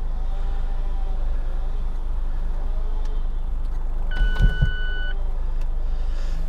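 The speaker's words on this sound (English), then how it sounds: "That's the roof down, so there's nice open area like a proper Targa" A Mazda MX-5 RF's retractable hardtop folds down with a steady electric motor whir and a couple of mechanical clunks, close up inside the idling car, no talk.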